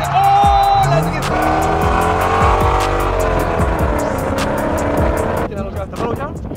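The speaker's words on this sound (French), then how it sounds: "Oh, la drift!" A car drifts on a professional race circuit in Las Vegas, its tires squealing loudly in long wavering screeches over a revving engine, close and intense, with voices heard at moments.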